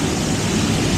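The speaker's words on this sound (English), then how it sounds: "We got a little action here with the water coming down." A waterfall pours steadily in a grotto cave along a lazy river at Disney's Typhoon Lagoon water park, a loud, even rushing roar with no break.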